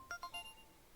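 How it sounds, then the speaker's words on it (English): Pokédex beeping in the Pokopia video game: a quick run of three faint, high electronic tones in rapid succession, then trailing quiet. "Huh? Something's beeping."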